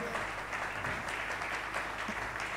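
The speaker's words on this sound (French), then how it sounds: "La manière dont ils applaudissent ici, c'est peu." Church congregation clapping during a sermon service, a soft, steady patter of many hands heard at a distance, faint and continuous with no talk over it.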